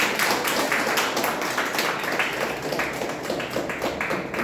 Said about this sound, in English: We can clap a little louder